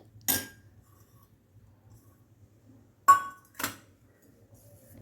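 A spoon mixing kulfi mixture in a bowl gives three sharp, bright clinks, one early and two close together later, over a faint low hum in an otherwise quiet kitchen.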